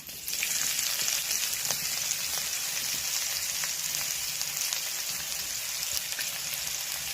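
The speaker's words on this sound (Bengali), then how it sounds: "প্রথমে ফোড়নে দিয়ে দেব শুকনো লঙ্কা, দারচিনি, এলাচ, লবঙ্গ," Whole spices such as dried red chilli, cinnamon, cardamom and cloves frying with onion in hot oil and goat fat, a steady hissing sizzle throughout, close, with faint stirring clicks.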